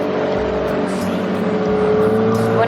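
A small two-stroke outboard engine on a dinghy runs steadily up close, a buzzing drone with a slight rise in pitch toward the end, heard alone without talk.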